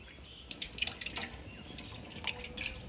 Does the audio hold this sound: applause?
no